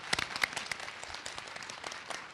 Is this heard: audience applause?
yes